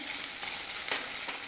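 Mashed boiled potatoes fry in a pan with chillies, giving a steady close sizzle and crackle with faint stirring scrapes, and no voices.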